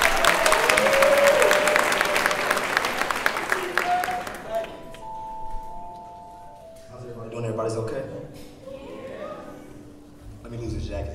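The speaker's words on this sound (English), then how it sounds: "Clap them up, y'all" An audience at City Winery claps loudly as the band is introduced. Dense applause fills roughly the first four seconds, then thins out beneath a speaking voice and soft sustained tones.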